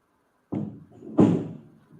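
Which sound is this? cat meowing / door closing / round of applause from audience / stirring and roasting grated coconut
door closing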